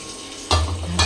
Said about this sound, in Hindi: इससे हम दाल में तड़का लगा लेते हैं।